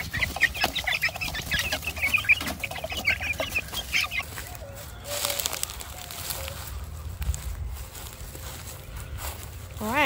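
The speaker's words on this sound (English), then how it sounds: "These are my big chickens." Several backyard chickens cluck around a person feeding and watering them, with talk over the flock; a busy, close, continuous mix of clucks, scratching and footsteps, with brief bird calls.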